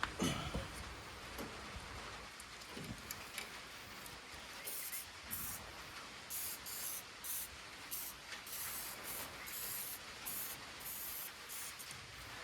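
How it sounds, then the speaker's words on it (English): Hissing bursts of oil spray from an aerosol can onto a 1940s Allis Chalmers, several short sprays in a row, faint and fairly close, with some mechanical clicking around them. "we'll spray some oil on there and play with it."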